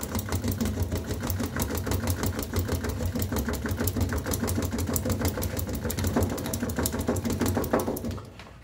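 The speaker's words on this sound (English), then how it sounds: "then I pump it vigorously, trying not to get it too far up like that" A French press plunger pumped vigorously to foam milk, rapid rhythmic rattling strokes repeating steadily up close for several seconds before stopping abruptly.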